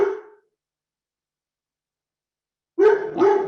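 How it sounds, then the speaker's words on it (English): A dog barking indoors at home gives one sharp bark, then after a long silence two quick loud barks close together, heard near and alone. "Excuse me, you're getting my dog."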